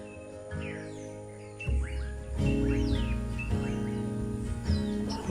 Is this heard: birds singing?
yes